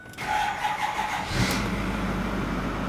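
A 2008-2010 Ford F-250 diesel truck cranks and fires up after its glow plugs cycle, settling into a steady, close idle rumble with no talking.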